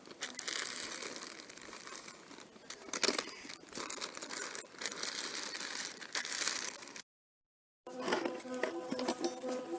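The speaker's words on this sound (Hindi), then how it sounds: "और पॉलीथीन को अभी इस तरह से फोल्ड करके घर के लिए ले जाना है" A polythene sheet crumpled and folded by hand outdoors, with close, loud crinkling and rustling bursts, a brief silent gap, then a few more crackles and a faint tonal sound.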